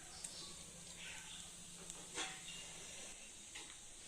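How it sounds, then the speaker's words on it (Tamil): Fennel seeds splutter in hot oil in a kadai, a faint, steady hiss broken by a few small crackling pops, heard alone without talk. "சோம்பு நல்லா பொரிஞ்சிருச்சு."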